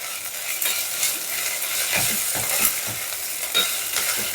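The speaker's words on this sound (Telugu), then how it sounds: "సో ఇది కొద్దిగా వేగేంత వరకు ఫ్రై చేద్దాం" Ginger garlic paste fries in a pan for a chana dal and cabbage curry, a soft continuous sizzle broken by scraping stirs, close by and without talk.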